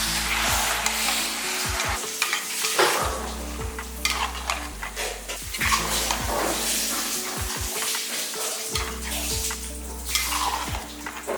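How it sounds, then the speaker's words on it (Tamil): Washed mutton intestines sautéing in a pan, a loud continuous sizzle with frequent stirring scrapes and metal clinks against the pan, close up. "நல்லா வதக்கின உடனே குடல்லாம் பாருங்கள் நல்லா சுருண்டு நல்லா வந்துடுச்சு."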